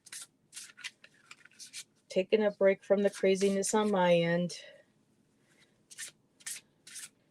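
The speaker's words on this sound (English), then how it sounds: "Just shuffling some cards" A deck of cards being shuffled, with short papery riffle bursts before and after someone speaks in the middle.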